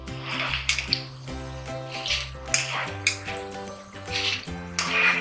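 A steady sizzling hiss of boondi frying in hot oil runs throughout, while a tonal melody plays alongside it.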